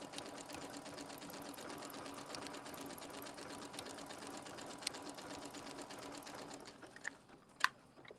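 A sewing machine stitches around a circle using a circles-and-straights tool, with a fast, even needle clatter at moderate level that slows near the end, followed by a few sharp clicks and taps.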